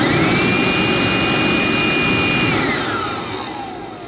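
An airflow test blower roars steadily through an empty McLaren air filter box, a loud constant whine with a high tone that drops and fades as the blower spins down near the end; no one speaks.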